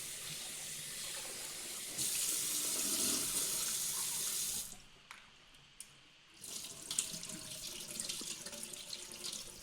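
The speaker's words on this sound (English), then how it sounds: "I always like to wash the rice so that it removes the starch on the surface." Tap water runs steadily into a sink with a rushing, splashing hiss while rice is rinsed, cuts out briefly, then resumes with lighter splashing and trickling.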